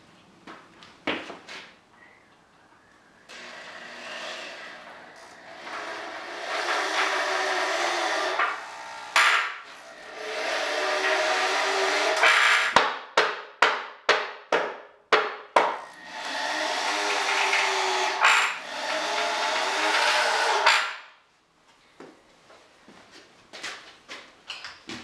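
Screws driven into a wooden workbench with a power driver: long whirring runs broken by a quick series of short bursts, close and fairly loud, with thuds and knocks of wood between them.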